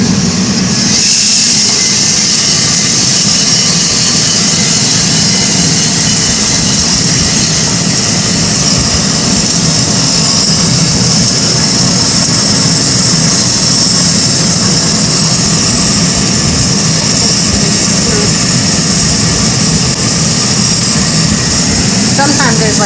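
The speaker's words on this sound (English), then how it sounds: "This is our cooling button and our mixing. Turns on both the air and the mix." A coffee roaster runs its cooling fan and bean-mixing arm together, giving a loud, steady whooshing roar of air with a low mechanical drone beneath, continuous from start to finish.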